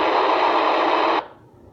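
A steady hiss of two-way radio static from a Kenwood radio for about a second, cutting off abruptly into near silence.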